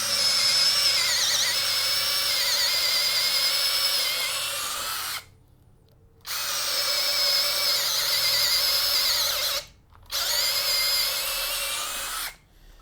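DCK 12V cordless drill running at speed 1, a loud whining motor buzz in three long bursts separated by two short pauses, close by with no talk.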